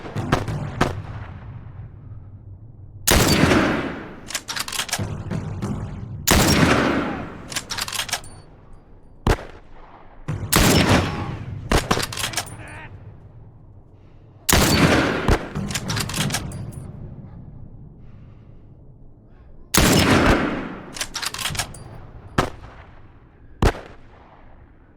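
Bursts of gunfire and heavy booming shots in the video game The Last of Us, coming in repeated loud volleys every few seconds with sharp single cracks between and quieter gaps of lingering rumble.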